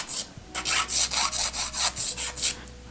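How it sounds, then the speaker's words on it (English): Rhythmic back-and-forth filing strokes shaping the edges of plastic press-on nails, about ten quick rasping passes in a steady rhythm, close and fairly loud, with no talking. "I'm just filing the nail so that the plastic on the end is gone"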